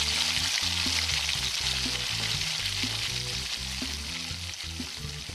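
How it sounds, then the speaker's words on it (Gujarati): Gujarati muthiya dough dumplings deep-frying in hot oil while making churma laddoos, a loud dense continuous sizzle close by, with a steady bubbling texture throughout and no talk. "તેલ આવી ગયું છે, હવે આપણે મુઠિયા તળશું."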